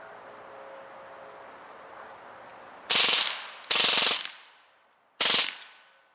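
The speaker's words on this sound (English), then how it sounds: "That was 40 shots that quickly." A Hatsan Blitz .22 PCP air rifle fires on full auto in three rapid bursts, each a dense, loud rattle of pellet shots, separated by short pauses and trailing off with a brief ring, with no talking.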